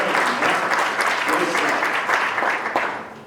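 Audience applause at a local government conference for the DDP team: a sustained, fairly dense crowd clapping with faint voices mixed in, easing off toward the end.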